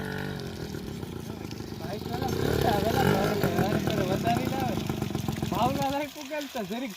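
A Suzuki vehicle's engine runs at a farm field during chickpea crop spraying, a steady mid-pitched drone under talk that continues throughout, with louder voices over its second half.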